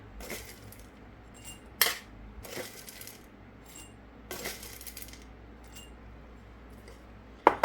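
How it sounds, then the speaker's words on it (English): Corn kernels spooned into glass meal jars for a taco bowl, three tablespoons each, giving scattered light clinks and taps of a spoon against glass, with a few sharper knocks among quiet pauses. "So 3 tablespoons of corn in each jar."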